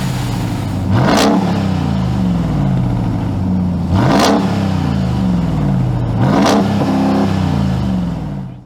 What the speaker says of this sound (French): Ce capot, il cache tout simplement un V8 de 6 litres 2 de cylindrée, un V8 supercharge.